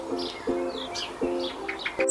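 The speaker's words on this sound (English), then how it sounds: "B is for blackbird." A blackbird calls in short, clear chirps repeated about three times in quick succession, heard alone and fairly close.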